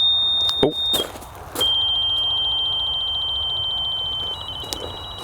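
A carp fishing bite alarm with a failing battery emits a steady, high electronic beep that cuts out and restarts several times, with a few sharp clicks and knocks nearby.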